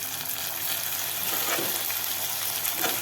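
Chopped tomato dropped into a hot frying pan during the making of a prawn curry, giving a loud, steady hiss and crackle of sizzling oil throughout, with no talk.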